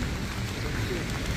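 Steady rain falls outdoors during a rainy-day tour stop in Germany, a dense unbroken patter filling the short moment with no speech.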